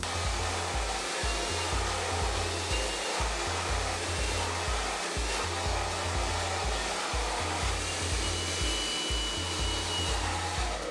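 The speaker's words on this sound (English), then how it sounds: "I'm going to hit it with the blow dryer, the heat, and really smooth this out" A hair dryer blows continuously at close range on coarse hair, a steady loud whooshing roar with a rhythmic low pulsing underneath, no talking.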